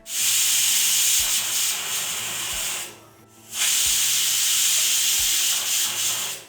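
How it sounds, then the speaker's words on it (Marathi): A loud, steady hiss of steam jets out of a pressure cooker whistle on a medium gas flame cooking vegetable khichdi, dropping briefly before surging again, with a faint rhythmic low knock underneath. "कुकरच्या दोन शिट्ट्या झाल्या की लगेचच आपण गॅस बंद करू"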